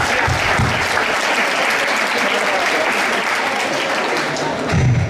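A school audience at a Sant Antoni event gives loud, sustained applause for the jury, dense, even clapping throughout with some voices mixed in.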